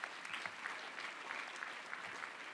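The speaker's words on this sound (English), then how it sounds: "Let's give her a round of applause," Steady clapping from an audience at a philanthropy celebration fills the space, a dense, continuous patter of many hands at moderate distance with no voices on top.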